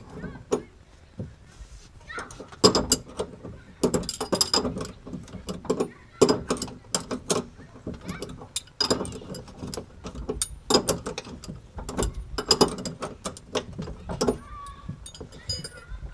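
Ratchet tightening a bolt while cutting car springs, irregular bursts of clicking pawl strokes with pauses between, close and fairly loud throughout.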